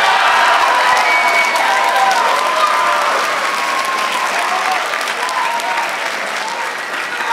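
A classroom audience claps, cheers and shouts as a vote for a contest winner, a loud, steady roar of applause and voices that tapers slightly over several seconds.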